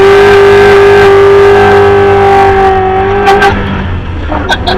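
A 1987 Buick Grand National sits on a hill with its engine roaring loud and close in a steady high-rev drone, the pitch sagging as the clutch is dumped and the car launches, with a few faint higher noises at the tail end.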